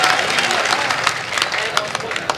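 Audience applause at a mushaira poetry recital in Gorakhpur: dense, continuous clapping from a sizeable crowd, loud and close, with a murmur of voices mixed in.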